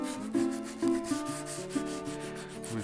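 A first handmade bushcraft knife blade is rubbed with a rag and WD-40 to strip the heat-tempering color, giving repeated close scrubbing strokes in a steady back-and-forth rhythm with no talking.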